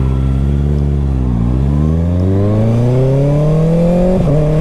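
A 2024 Kawasaki ZX6R 600cc motorcycle with a quick shifter revs loudly and climbs through the gears, its engine pitch rising steadily with a brief dip at a shift, heard close up and without talk.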